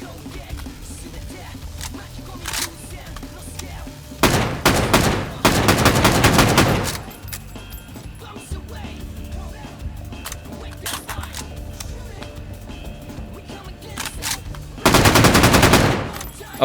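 Full-auto gunfire in the VR shooter H3VR, with long rapid bursts of loud, close shots in two bursts around the middle and another near the end, separated by quieter stretches with a few isolated shots.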